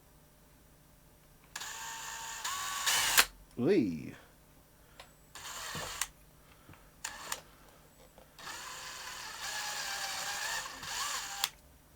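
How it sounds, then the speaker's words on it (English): A small power drill bores through a guitar effects pedal casing in several separate bursts of whirring, steady high-pitched runs broken by pauses, clicks and a brief sung exclamation. "I'll just drill that right through the centre and it'll be fine."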